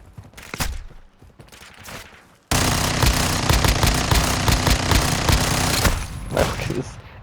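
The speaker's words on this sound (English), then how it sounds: "Sounds like a dang machine gun" Rapid automatic bursts from the X13 pistol in Call of Duty Modern Warfare II, firing like a machine gun in a loud, sustained stream of about three and a half seconds after a few scattered shots, with someone talking around it.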